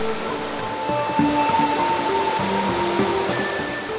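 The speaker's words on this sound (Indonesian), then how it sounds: "Sungai ini memiliki arus yang sangat deras" The fast-flowing Serayu River in Banjarnegara, Central Java, rushing over large scattered boulders along a winding channel, a continuous broadband roar of whitewater, steady and close, with faint tonal hums layered over it.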